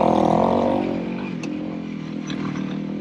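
A Honda CRF300L motorcycle climbs a mountain trail in second gear, engine droning loud at first then easing to a steadier, lower hum with light clatter.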